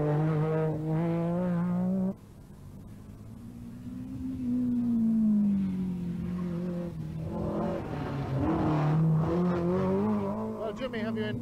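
A four-wheel-drive Metro rally car with some 300 horsepower accelerates hard along a 1990 Donegal Rally stage, its loud engine note climbing in pitch through the gears, easing off briefly, then surging again close by.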